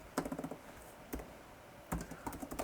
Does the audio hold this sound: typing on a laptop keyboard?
yes